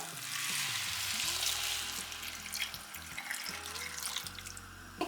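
Coconut milk pours into a pot of tapioca, a soft, low liquid splash and trickle that rises and then settles into faint bubbling and sloshing, quiet and close.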